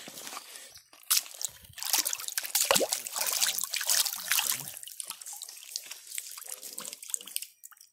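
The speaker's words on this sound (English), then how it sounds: "Let me rinse it off and get a look at it." A fossil rock from Southern Ohio is rinsed under running water. Close, splashing trickles and spatters continue for several seconds, then fade at the end.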